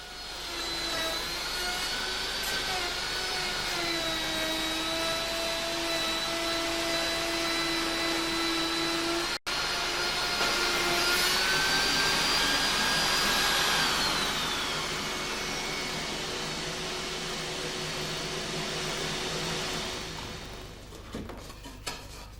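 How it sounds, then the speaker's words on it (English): An electric router cutting wood along a clamp guide gives a loud, sustained high whine with a brief break partway, and the pitch shifts as it bites through the cut before spinning down. "Care must be taken to hold the router firmly against the guide."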